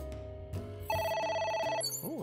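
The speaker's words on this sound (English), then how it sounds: "Oh, okay. A phone." A phone rings in the video game AI: The Somnium Files, a single bright electronic ring burst heard close and loud over the game's background music.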